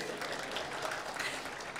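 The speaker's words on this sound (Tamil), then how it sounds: "ஒரு பெரிய கைத்தட்டி முடிச்சிருங்க" Audience at a Tamil comedy speech event bursting into dense, continuous applause, a broad wash of many hands clapping at once, steady and fairly loud throughout the short stretch.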